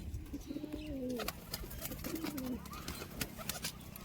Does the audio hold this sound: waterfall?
no